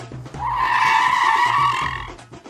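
A car's tyres squeal in one sustained skid lasting about two seconds as the vehicle swings around, loud and close, with engine rumble before and after.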